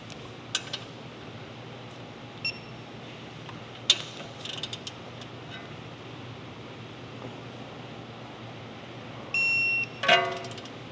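A torque wrench tightening an upper control arm bolt on a Porsche 992 Carrera during an Ohlins coilover install: sparse, faint metallic ratchet clicks and a brief whir scattered over quiet workshop background.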